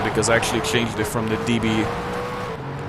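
Aston Martin DB9 engine sound in the racing game Shift 2 Unleashed, a steady in-game engine drone running continuously beneath someone talking over it.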